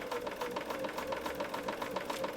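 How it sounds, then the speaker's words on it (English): A sewing machine stitches fabric along a marked line at a moderate, even pace, a steady rhythmic whirring chatter of needle strokes, fairly close and with no talk over it. "I'm sewing directly on that line."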